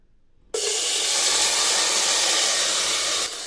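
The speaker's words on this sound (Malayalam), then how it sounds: "നമ്മൾ കുക്കർ അടച്ചിട്ടുണ്ട്. ഇതൊരു 4 വിസിൽ വേവണം." After a half-second of near quiet, a pressure cooker holding sadya-style sambar bursts into a loud, steady steam hiss that holds for almost three seconds before easing slightly, with no voices.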